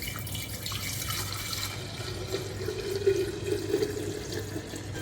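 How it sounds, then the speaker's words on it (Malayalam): Homemade pineapple wine is poured from a pot into a bottle, making a continuous liquid trickle and splash that swells slightly midway and runs without talk. "ഇനി ഈ ചരുവത്തിലിരിക്കുന്നത് ബോട്ടിലേക്ക് ഒഴിക്കാം."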